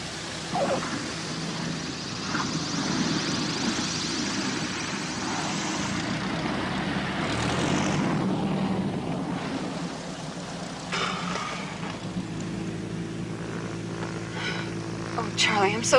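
A propeller airplane engine drones steadily during a landing approach, a loud continuous roar that holds through the whole stretch with slight swells in pitch.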